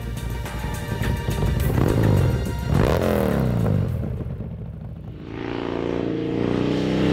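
A French motorcycle engine revs hard and loud, intake flaps opening above 2200 rpm, the pitch sweeping up and then dropping, before settling into a steady rumbling idle.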